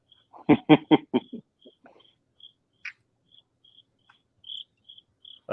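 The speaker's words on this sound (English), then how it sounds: "The crickets are really setting the mood, Ty's saying." Crickets chirp faintly and steadily at a distance through a quiet night backdrop, with a burst of nearby clatter early on.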